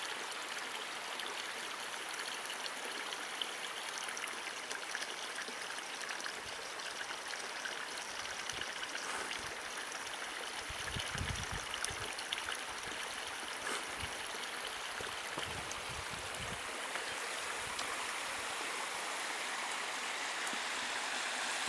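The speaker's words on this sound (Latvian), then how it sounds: "tas sākās ūdens kritums laikam" A mountain stream and waterfall near Forno di Zoldo in the Italian Dolomites rush in a soft, continuous hiss, heard from a distance and fairly quiet, with faint splashing throughout.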